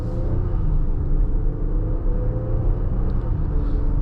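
A 2024 Infiniti QX60 Autograph luxury SUV pulls away in drive under mild throttle, giving a steady low engine and road rumble heard from inside the cabin, with no talking.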